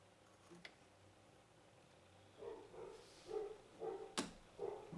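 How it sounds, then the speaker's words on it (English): A few short barks from a dog a little distance away, coming in irregular bursts, with a sharp click in between. "I hear Hank barking at something."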